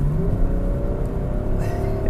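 2016 BMW X6 xDrive30d diesel engine accelerating hard in sport mode, a steady droning growl with rising tones heard from inside the car, brief and fairly loud.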